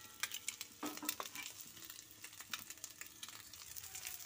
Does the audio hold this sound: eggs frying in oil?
yes